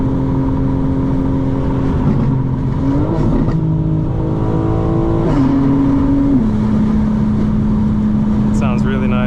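Tuned 900 hp 2025 BMW M4 Competition xDrive with an MHD tune, engine droning and shifting through gears while driving, loud and close, with talking over it.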